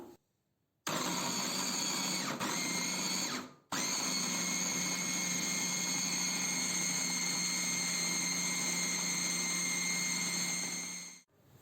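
A kitchen robot blender whips banana milk with a loud, steady motor whine close by. It cuts out briefly near the start and again for a moment mid-run, then runs on unbroken. No one speaks.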